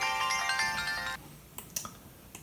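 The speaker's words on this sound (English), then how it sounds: "this bell sample. This is also taken from Jungle Jungle" A bright, tinkling bell sample from the Ape Escape video game's Jungle Jungle level rings out in quick chiming notes for about a second, followed by a few soft clicks.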